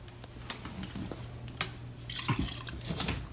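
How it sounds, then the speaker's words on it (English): Water poured into a pot of turkey chili, a soft trickling and dripping splash with faint squishy liquid sounds, close and fairly quiet, building slightly toward the end. "So I'm gonna go ahead and put a little bit of water in here."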